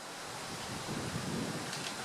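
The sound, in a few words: strong wind blowing outdoors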